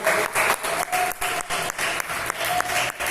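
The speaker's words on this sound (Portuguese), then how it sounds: "Vamos aplaudir bem forte o nome do Senhor" A church congregation applauds loudly, a full continuous roar of clapping that swells and dips in repeated surges, with a faint sustained tone running beneath it.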